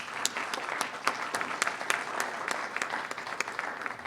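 An audience at a morning leadership panel claps steadily, a moderately loud, continuous patter of many hands with individual sharp claps poking through, without voices.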